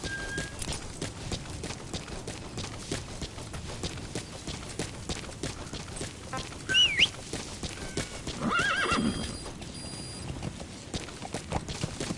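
Steady hoofbeats of a galloping horse in Metal Gear Solid 5: The Phantom Pain run throughout, with a horse neighing and snorting partway through, alongside faint jingling effects.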